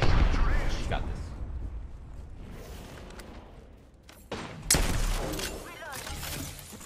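Gunfire in the video game Apex Legends, with sharp shots and bursts in bunches that start loud, fade, then return strongly near the end, while players talk under the shooting.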